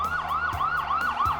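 Toy fire truck siren wailing in a steady up-and-down sweep, repeating about every quarter second, close and loud with no voices.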